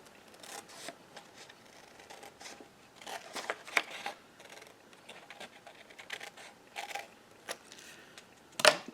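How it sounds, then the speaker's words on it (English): Scissors cut across a folded line in craft material, a quiet series of close snips and rustles in an irregular rhythm, with one sharper crisp cut near the end. "you just cut across that folded line as straight as you can"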